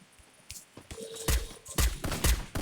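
Bursts of gunfire from the SK gun in a Free Fire match, several sharp loud shots in quick succession over about two seconds, close and punchy, with no talking.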